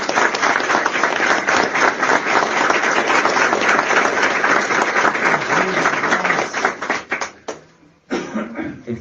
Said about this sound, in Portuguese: As palmas a Ial.